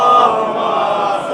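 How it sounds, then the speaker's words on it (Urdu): A crowd at a Muharram majlis chanting the salawat aloud together, a loud sustained unison of many voices held steady for a short moment. "آواز بلند نعرہ صلوات."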